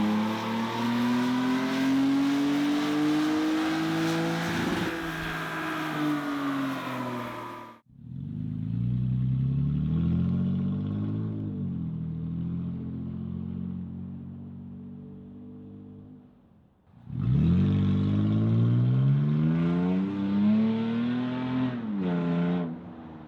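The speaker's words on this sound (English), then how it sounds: "we're about to do our on-road sound sample with no exhaust at all" Toyota Tacoma pickup driving on the road with its exhaust removed entirely, a loud, raw engine drone that rises and falls through repeated revs and gear changes, close and continuous with no voices.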